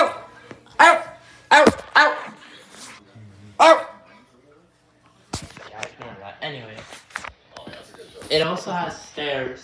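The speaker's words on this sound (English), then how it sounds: "Up here's the little dog." A little dog in a house gives several sharp, separate barks, then yips and whimpers, while a person talks in between.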